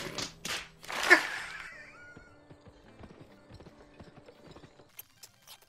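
Horse in the Western video game GUN: a loud whinny and snorting up front, then a string of light hoof clip-clops and small mechanical clicks fading lower over the rest.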